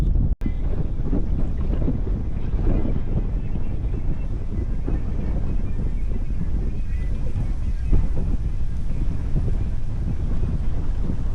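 Steady wind roaring over a bass fishing boat on Lake Dora, loud, constant low rumble of gusts against the microphone for the whole stretch, with a brief dropout near the start.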